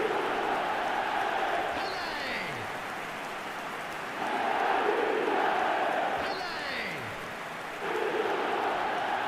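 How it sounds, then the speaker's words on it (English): A stadium crowd roars in an eFootball 2026 mobile football match. The wash of noise swells and fades in waves, with whistles and chants rising at moments. "The crowd are calling for this to be put to bed."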